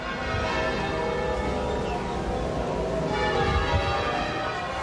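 Eight ringers sound the church bells of St Michael's in Bath in a memorial peal, a dense, continuous wash of overlapping bell tones ringing steadily throughout.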